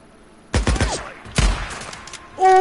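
Gunfire in the Days Gone video game: two sharp bursts of rapid shots crack out close and loud, separated by a short pause, followed by a rising tone.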